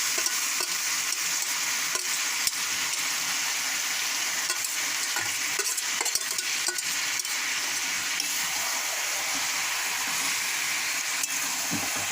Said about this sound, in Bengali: মেখে রাখা মাংসটা এবার কড়াই দিয়ে দিচ্ছি।